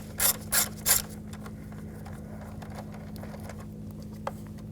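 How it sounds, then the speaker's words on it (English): A ratchet with a 5mm hex socket loosens a screw on a 2011-2018 Volkswagen Jetta during fan assembly removal, three quick close clicking bursts followed by faint handling noise. "Using a 5mm hex socket, I'm going to take this screw, loosen this up"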